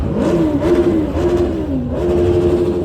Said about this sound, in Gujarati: ભયંકર અવાજ કર્યો, બધા બાઇકવાળા એક સાથે ચાલુ પડી ગયા.